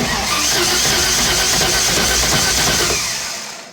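A race car engine turns over on its starter button, a loud, steady whirring crank with a hissy rasp and a faint rhythmic pulse that fades out near the end, with no talking.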